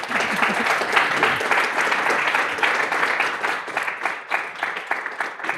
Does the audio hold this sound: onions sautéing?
no